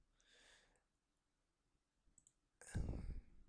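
A computer mouse clicks softly a few times between quiet gaps, followed by a louder burst of noise near the end.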